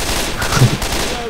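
Left 4 Dead 2 gunfire: a quick cluster of sharp shots crackling over a dense, noisy in-game background, loud and close, with faint talk mixed in.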